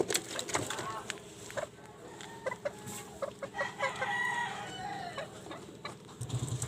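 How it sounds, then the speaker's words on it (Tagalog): Chickens clucking repeatedly in short bursts, with a rooster crowing among them, close by in a busy yard. "ang aking manok na takot"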